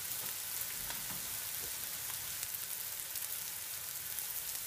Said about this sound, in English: we're going to throw our mushrooms and get them bad boys into there and get them cooking